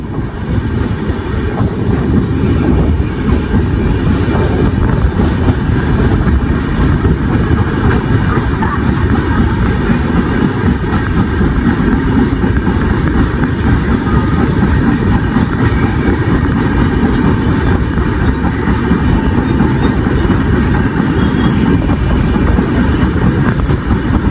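The Gol Gumbaz Express runs through a station in India in sleeper class without stopping, with a loud, steady roar of wheels and carriage rumble heard from inside throughout.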